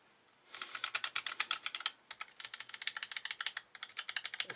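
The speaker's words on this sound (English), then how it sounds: "it still makes that nice click when you hit down, when you bottom out on it" Fast, steady typing on a Cherry G84-4400 compact mechanical keyboard with linear-feeling switches that still click when bottoming out, close and crisp, in two bursts with a short pause between.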